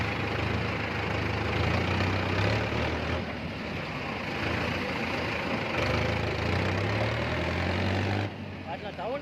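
A new Mahindra Novo 605 DI tractor engine runs at a steady, rumbling idle close by, with a low, even throb throughout, while a voice is faintly heard over it before the sound cuts off near the end.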